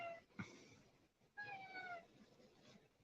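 A house cat meows twice at low volume, with a short cry at the start and a longer drawn-out meow in the middle, against quiet room background and no talk.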